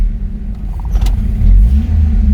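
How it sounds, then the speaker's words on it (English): Heard from the cabin, a long-neglected original 1986 Honda Civic CRX HF drives off, its engine a loud low rumble with rough, uneven pulses and a slight rise in pitch. "I'll take you out for a spin around the block."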